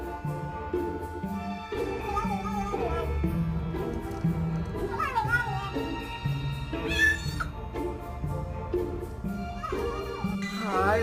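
Cats yelling and meowing, several loud drawn-out rising and falling yowls close by, mixed with people talking and background music.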